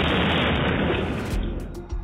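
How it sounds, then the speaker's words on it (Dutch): A car explosion bursts into a dense, roaring blast of noise that rumbles on heavily for a couple of seconds. "Er volgt vrijwel direct daarna een ontploffing"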